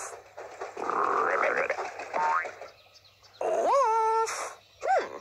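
Several short, cartoonish dog barks and whimpers from a children's cartoon come close up, with a springy twang between them and quiet gaps.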